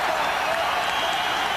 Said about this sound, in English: The crowd on its feet.